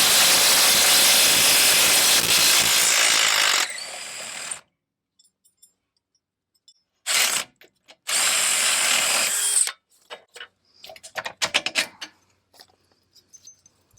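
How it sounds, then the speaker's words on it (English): A small impact gun hammering loose rusty rear strut bolts on a Dodge Grand Caravan, a loud continuous rattling burst of about four seconds, then shorter bursts and scattered clanks nearby. "I was not expecting this little gun to break free these rusty bolts."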